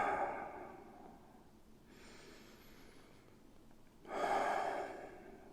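Slow breaths drawn in through the nose during a floor stretch for the back and pelvis: a soft airy inhale, a quieter stretch of steady breathing, then another fuller rushing breath near the end, close and alone.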